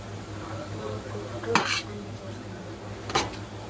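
A spoon scrapes and knocks against a pot while stirring finished chicken biryani with fried onions and coriander. Two distinct clanks stand out over quiet kitchen background hum.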